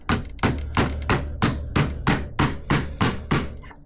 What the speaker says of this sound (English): give it a little tap with the hammer